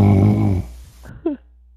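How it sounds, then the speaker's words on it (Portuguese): A person snoring loudly over TeamSpeak voice chat: one deep, rumbling, harsh snore lasting about half a second, followed by quieter breathy noises and a short nasal snort. "Nossa, velho, tá roncando muito."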